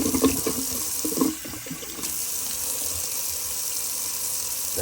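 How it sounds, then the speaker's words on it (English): Cold tap water runs into a sink for a post-shave rinse, opening with a few splashy bursts of hands in the stream, then settling into an even, close rushing flow with no talk. "Cold water rinse."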